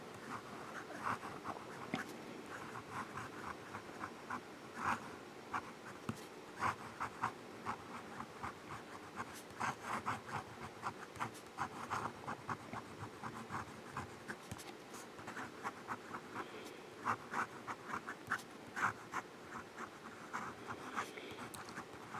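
A Jinhao 100 Centennial fountain pen with a smooth, wet nib writes on paper, producing a continuous soft scratching with quick rhythmic strokes close to the ear and no talk.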